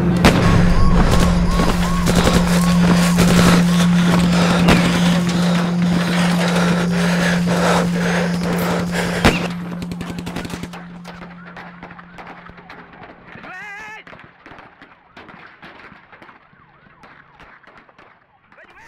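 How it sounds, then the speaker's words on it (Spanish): Rapid, continuous bursts of automatic weapon gunfire at Curuguaty crackle for several seconds over a loud steady siren wail, then fade into scattered distant noise and faint sirens. "al iniciarse los disparos se escuchan primero algunos tiros aislados y luego 9 segundos de disparos continuos de armas automáticas"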